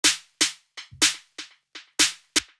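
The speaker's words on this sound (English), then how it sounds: "It's just an 808 snare" An old-school 808 drum machine snare with light saturation hits eight times in a steady rhythm, each a sharp noisy crack with a quick decay, dry and close with no voices.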